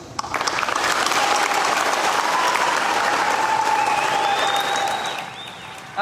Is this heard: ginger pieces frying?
no